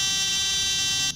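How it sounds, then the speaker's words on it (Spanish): Microsoft FSX Steam Edition's landing gear warning alarm blares as a loud, steady, harsh buzzing tone. It holds at full level and then cuts off abruptly at the very end. "Esa es la alarma de tren. Es que estamos con potencia cortada y no bajamos el tren."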